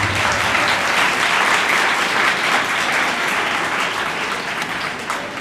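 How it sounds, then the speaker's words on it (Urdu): An audience at a Christian youth church session claps in loud, steady applause that carries on without a break and fades slightly toward the end. "بھرپور تالیوں میں مبارکباد دینا چاہتا ہوں"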